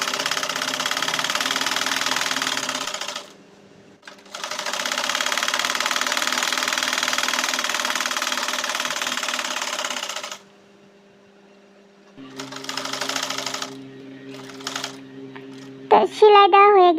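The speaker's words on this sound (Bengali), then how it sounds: "তো এটাকে সেলাই দিয়ে নেব।" Electric sewing machine stitching the wide side of a cotton-stuffed pillow cover, a steady loud mechanical whir running in two long bursts with a brief pause, then a shorter run ending in clicks and handling noise.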